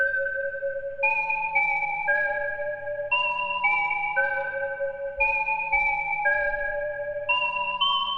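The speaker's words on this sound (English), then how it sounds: "Now I have the initial 16 preset from Hayes' Intrusion Bank" A synthesizer preset from Hayes' Intrusion Bank plays a steady melody of bright, bell-like notes, each held for about half a second, stepping up and down at a moderate pace.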